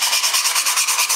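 An MDF board being sanded by hand while carving a Toyota Hilux model: quick, close, regular back-and-forth rasping strokes, about eight or nine in a row, with no talking.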